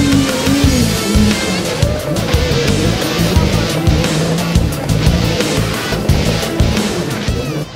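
An electric Razor Crazy Cart XL drift cart driving at a toy fair, with a steady loud whir, tire squeal and skidding throughout and some talk in the background.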